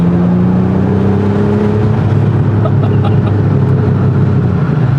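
A 1987 Porsche 930 Turbo engine through its stock exhaust hums steadily near 3,500 RPM, a loud, even drone heard from inside the car with no talking.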